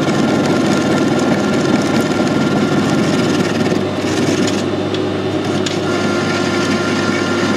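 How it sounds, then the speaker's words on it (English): Lathe running fairly slowly as a strong tool cuts the square off the end of a bolt, a loud continuous grinding rasp over the machine's steady hum, close by and with no speech. "Doing the lathe fairly slow, and I've got a nice strong tool in just to take the square off the end of the bolt."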